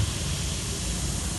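Vinegar and baking soda reacting in a classroom experiment, giving a steady, close fizzing hiss of carbon dioxide bubbles that holds evenly throughout with no talk over it.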